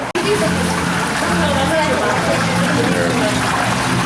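Water rushes and splashes steadily through a mining sluice outside the Buckhorn gift shop at the Great Wolf Lodge in the Wisconsin Dells, a continuous close wash with voices murmuring underneath.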